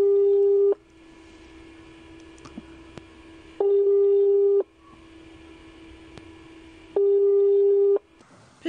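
A ringing tone sounds on a telephone call that goes unanswered, with long steady beeps repeating at regular intervals and quiet line hiss between them, heard alone.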